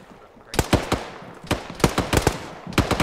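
Bursts of rapid gunfire in a military shooter game featuring Marines, several loud, close clusters of sharp shots separated by brief pauses.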